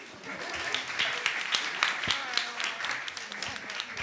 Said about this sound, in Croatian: Pljesak, molim.